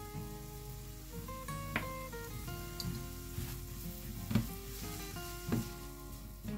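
Onion and pepper frying gently in a little oil in a pan for an aubergine and cod timbale filling, a steady soft sizzle throughout with occasional light stirring clinks, close and even.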